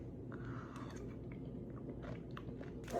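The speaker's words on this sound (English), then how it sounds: "Let's eat. Creme brulee." Chewing of creamy, crunchy creme brulee with a burnt-sugar crust, soft close mouth sounds and small crackles steady over a low background.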